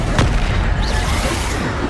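A Bombarda spell explodes in Hogwarts Legacy on PS5: a dense, loud blast of rumbling noise with a sharp burst near the start, filling the whole moment without pause.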